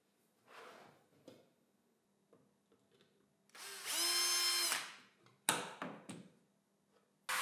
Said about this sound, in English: I pre-drill the holes for the screws